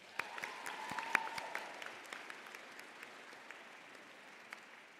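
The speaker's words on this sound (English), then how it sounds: "let's give all our human math Olympiads one more round of applause" An audience at a school closing ceremony applauds human math Olympiad students, the faint, distant clapping fading gradually with a few sharper individual claps standing out.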